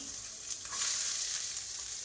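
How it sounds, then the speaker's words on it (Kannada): A tempering for amaranth stem greens palya sizzles in a pan as a faint, steady hiss that swells briefly, with no voices. "ಈಗ ಸೊಪ್ಪಿನ ಪಲ್ಯಗೆ ಒಗ್ಗರಣೆ ಹಾಕ್ತಾ ಇದ್ದೀನಿ"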